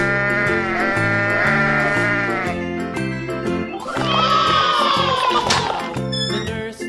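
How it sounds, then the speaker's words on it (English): A children's song plays with bouncy music throughout, and a sheep's bleat sounds over it near the middle, loud and wavering against the tune. "Sheep."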